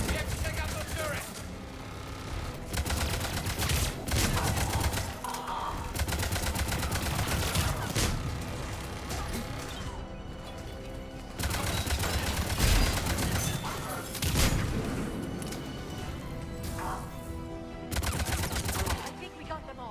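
Dense, rapid automatic gunfire rattles almost nonstop in a Mass Effect 3 firefight against Cerberus turrets, loud bursts stacking over each other with brief lulls, while voices speak over the shooting.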